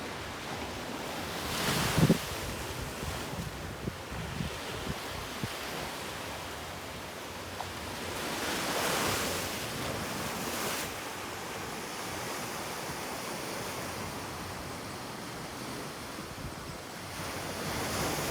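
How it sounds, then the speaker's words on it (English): Ocean surf on Folkestone Beach in Barbados, with waves washing ashore in soft swells over a constant wind rush, a couple of surges building louder and then fading back. "So this is Folkestone Beach"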